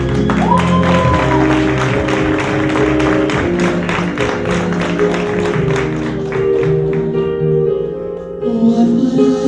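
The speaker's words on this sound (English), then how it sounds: "let's give a round of applause to our beautiful contestants" Audience applause for contestants at a beauty pageant: a dense wash of clapping from the crowd over loud background music, fading as the music carries on.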